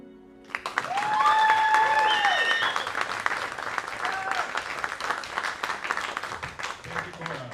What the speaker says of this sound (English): One more round of applause for Cora and for Evelyn.